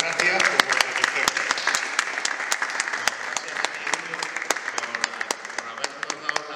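An audience applauds at a book presentation in Talavera de la Reina, with dense, loud, sustained clapping from a crowded room.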